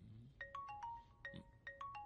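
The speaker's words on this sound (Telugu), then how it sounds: "ఇదిగో వచ్చేసింది, మాట్లాడండి." A phone ringtone plays a repeating electronic melody of short bright tones in a steady rhythm, fairly faint, with no talk over it.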